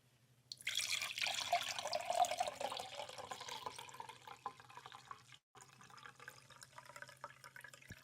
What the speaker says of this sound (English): And all I do is I strain it out.